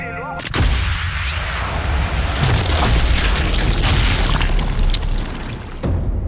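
A heavy explosive blast in Sniper Elite 5 opens with a sharp crack, then a long rumbling roar and crackling debris fill the scene, with a deep low boom lingering before fading.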